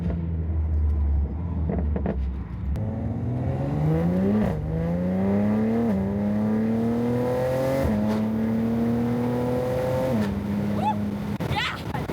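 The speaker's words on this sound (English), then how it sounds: "so y'all can hear the car" A car engine revving up through several rising pulls, each climbing in pitch then dropping off, fairly close and loud against steady background noise, with no talk over it.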